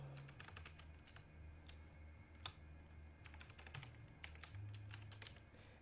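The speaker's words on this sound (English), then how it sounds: "And I'm going to type out the title." Quiet, irregular clicking of keys on a computer keyboard as a title is typed, coming in short bursts with brief pauses and no talking.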